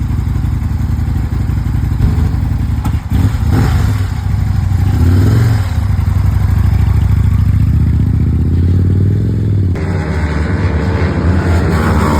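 A loud 600 cc motorcycle engine on the Circuit de Nogaro race track roars and revs continuously, rising and falling in pitch with some clattering, close by.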